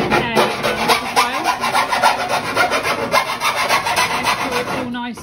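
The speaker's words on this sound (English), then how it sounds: "give it all a rub around with a file" Rhythmic rasping strokes of a hand file rubbing down edges of a bus-conversion build, loud and close, steady back-and-forth for several seconds and ending with a brief knock.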